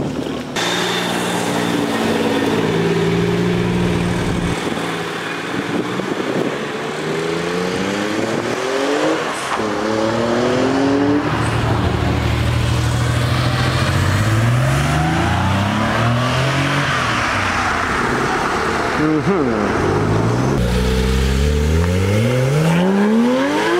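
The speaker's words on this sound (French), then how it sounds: "Sacré son le Flat 6." A flat-six car engine revs loudly and repeatedly, its pitch sweeping up and down through several throttle blips. It sits close by with wind noise and no talking.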